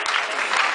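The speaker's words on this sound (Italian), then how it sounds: "Un applauso a Johnny in camera" A short burst of dense, even applause from a live audience at an Italian stage contest, clapping for a camera operator.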